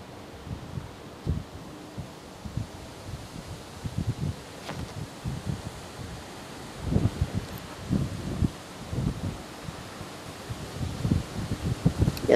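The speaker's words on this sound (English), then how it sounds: "Now this wind." Gusty wind buffets the microphone in low rumbling bursts at Hassocks railway station, with faint rustling leaves between the gusts outdoors.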